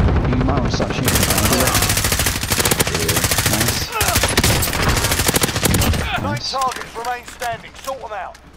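Rapid automatic gunfire in the video game Warzone, dense and loud throughout, with scattered shots toward the end and voices talking over it.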